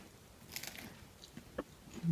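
Someone bites into crispy mojo pork empanadas and chews, giving a few soft close crunches and chewing sounds at low level.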